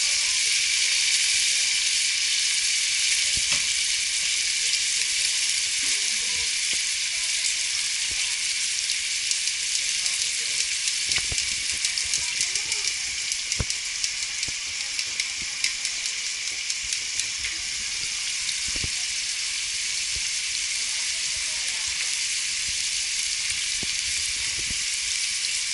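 Beef short ribs brown in a hot pan for a braised ragu, giving a loud steady sizzle and hiss throughout with occasional sharp pops and spatters, close and without talk.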